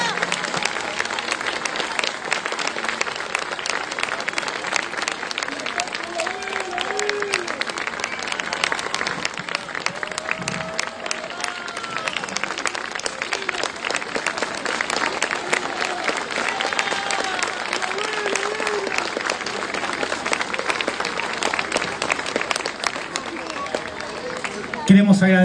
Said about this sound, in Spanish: Más fuerte el aplauso para ellas